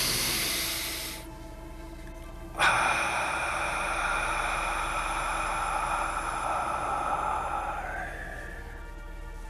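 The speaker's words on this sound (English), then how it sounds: "Nice deep breath into the nose." A deep breath drawn in through the nose, then a long, steady exhale, soft and close over a sustained ambient music drone during a guided relaxation session.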